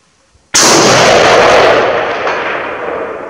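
A single loud, close gunshot from a CETME LC rifle chambered in .223 cracks sharply out of near silence and leaves a long, fading rumble and echo across an outdoor range.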